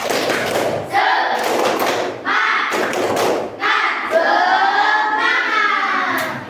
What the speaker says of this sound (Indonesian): Ulangi lagi, tepuk semangat.